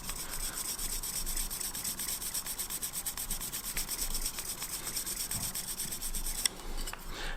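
Steady, dry rubbing as the inside face of a spindle gouge is polished on a sharpening stone, an even, continuous scrape with one small knock near the end and no talking.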